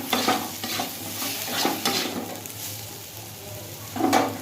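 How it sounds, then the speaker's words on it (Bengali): Spices and poppy seed paste fry in a pan, a spatula stirring in repeated scraping strokes over a steady low sizzle, close and fairly loud with no talk. "মশলা কষে গেছে পোস্ত পাতা দিয়ে দিয়েছি এবার পোস্তটাকে ভালো করে ভেজে নেবে"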